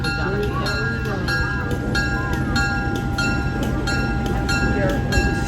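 A train pulls into a station with a loud, steady rumble and rolling rail noise, metallic squeals and tonal hums layered on top, close and continuous throughout, with voices in the background.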